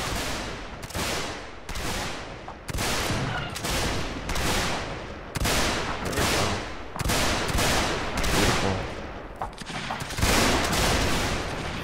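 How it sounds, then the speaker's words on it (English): Repeated volleys of massed rifle fire by rank in a multiplayer musket-era video game: about a dozen loud, sharp broadside cracks spaced roughly a second apart, each with a rolling tail, continuing without pause over the whole stretch. "Fire by rank, right."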